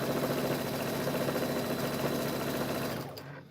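A sewing machine stitches binding onto a quilt, running steadily with a fast, even mechanical whir for about three seconds before slowing and stopping, close and alone.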